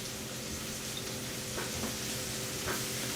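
Minced garlic, about a tablespoon and a half, sautés in a pan for stuffed cabbage rolls, giving a steady soft sizzle with a few faint stirring clicks and no voices.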